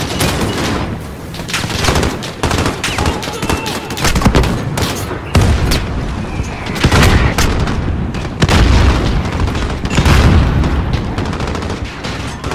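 Grenade explosions and bursts of gunfire in Call of Duty Modern Warfare on Hardened difficulty, loud and continuous, with heavy booms every couple of seconds over rapid shots, a voice talking briefly underneath.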